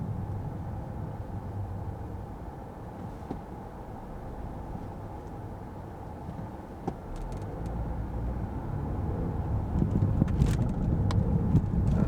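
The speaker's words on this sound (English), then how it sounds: "Got another truck here." A truck rolls past on a road, a broad, steady engine and tire rumble that grows somewhat louder toward the end, with a few small clicks and no speech.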